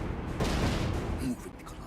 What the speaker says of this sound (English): don't understand how you're supposed to weave your way past that constant machine gun going